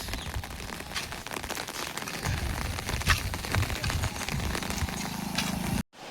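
Heavy monsoon-season rain pours steadily on a farm where goats, cattle and chickens are kept, a dense continuous hiss that cuts off abruptly near the end.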